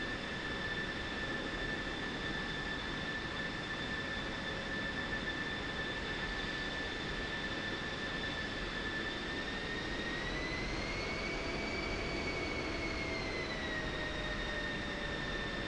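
An F-16 Viper jet engine idling and spooling up in the DCS flight simulator, a steady loud roar with high whining tones that rise in pitch partway through as RPM increases, no voices.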